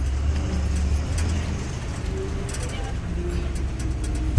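A packed bus on a hot day rumbles along at steady speed, its low engine drone and road noise continuous and fairly loud, with passengers' voices chattering over it.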